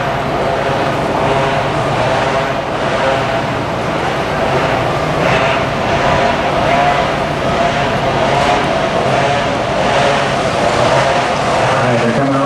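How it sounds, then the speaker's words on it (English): A pack of vintage open karts drones around the track on a warm-up lap, a loud continuous blend of small engines with pulsing swells as they pass. "And they make their way around the track on their warm-up lap."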